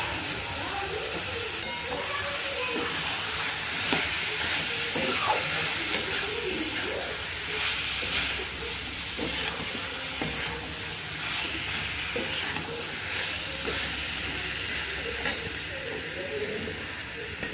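Cauliflower florets and potato pieces sizzle steadily in hot spiced oil, a continuous loud frying hiss with occasional stirring.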